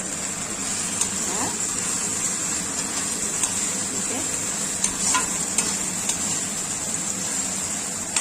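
Chilli chicken with sauce sizzles steadily in a hot pan while being stirred, a dense continuous frying hiss with occasional scrapes and light clinks of the spoon against the pan.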